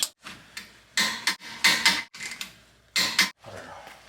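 A torque wrench tightens lug nuts on a Toyota Highlander wheel fitted with spacers, giving a string of short, sharp ratcheting clicks in quick irregular bursts, close and fairly quiet.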